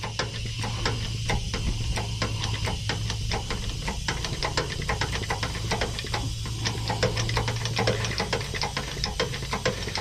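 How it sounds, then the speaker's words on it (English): Compressed air hissing steadily from an air valve on a 2007 Freightliner Columbia truck, with rapid mechanical ticking and a low hum underneath, close and continuous throughout. "Now you're going to hear some air. That's fine."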